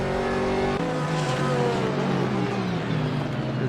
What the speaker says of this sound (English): So a little battle here with Aston Martin and the Porsche. couple Porsches there.